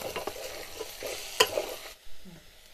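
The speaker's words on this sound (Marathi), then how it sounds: "आणि मग आपण हे सगळं आहे ना असा मस्त हलवून घेऊ।" Onion-garlic masala and spices being stirred in a pan while cooking spiced rice, with a steady soft sizzle, a scatter of light scraping strokes and one sharp spoon clack near the middle, up close with no talk.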